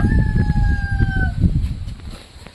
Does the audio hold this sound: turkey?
yes